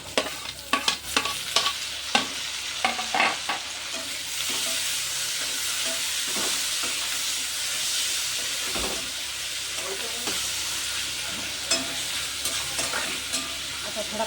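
Onion and tomato frying in a pan for jhunka, a steady loud sizzle and hiss with occasional scrapes and clinks of a stirring spoon against the pan.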